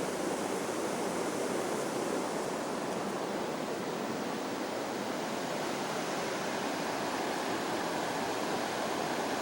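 A river rushes past a riverside hotel near a bridge in Germany, a loud, steady broadband roar of flowing water that holds constant throughout with no voices over it.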